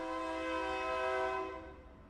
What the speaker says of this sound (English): y'all might hear that train in the background